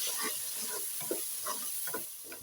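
Potatoes being stirred in a hot pan with salt, chili and turmeric, spoon scrapes coming in steady strokes over a continuous soft sizzle, close and clear, with no voices.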